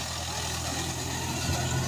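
A tractor engine runs steadily during paddy threshing in a rural setting, a continuous loud rumbling drone with no breaks.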